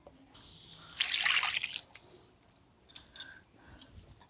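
Grated potato is rinsed in a bowl of water, giving a brief burst of splashing and swishing, followed by a few soft drips and clinks, close and fairly quiet.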